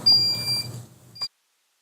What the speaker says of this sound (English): that timer says my 15 seconds are up